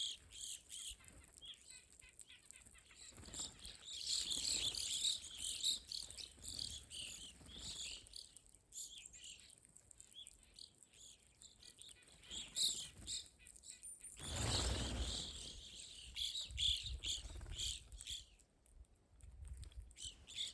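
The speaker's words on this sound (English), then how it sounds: "The flock of evening grosbeaks brings with them a noticeable increase in the amount of energy at the bird feeder." A flock of evening grosbeaks at a winter bird feeder, giving repeated chirps and squawky calls of moderate loudness, with bursts of wing flutter and a louder rustling flurry partway through.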